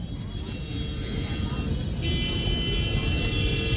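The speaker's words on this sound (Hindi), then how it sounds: "इतना ट्रैफिक रहता ना यहाँ पर।" Busy city road traffic near Chandni Chowk in Delhi, a dense continuous roar of passing vehicles with faint horn tones, while people talk nearby.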